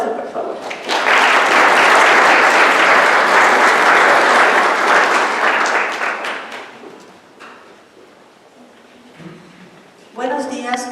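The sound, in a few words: audience applause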